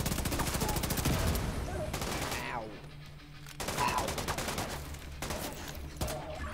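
Gunfire in The Division 2 Dark Zone: loud rapid automatic bursts in several clusters with brief pauses between them, close and dominant, with some voices mixed in.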